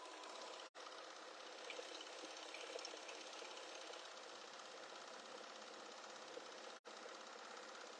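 An embroidery sewing machine stitches applique with cutwork needles at 1,000 stitches a minute. It gives a fast, even mechanical whir, close and steady, with two brief dropouts and no talk.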